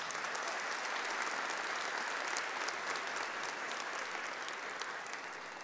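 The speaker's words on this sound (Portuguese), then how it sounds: "Vamos dar uma salva de palmas para quem está em casa?" Congregation in a church service giving a round of applause, continuous even clapping from many people sustained throughout, moderately loud with no voices over it.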